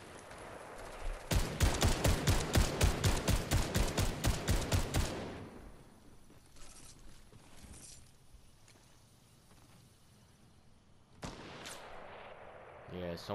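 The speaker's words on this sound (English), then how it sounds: "Yeah, someone's sniping that way." Rapid burst of loud gunfire in Fortnite, a dozen or so sharp evenly spaced shots over about four seconds, followed by quieter scattered distant shots and another loud burst near the end.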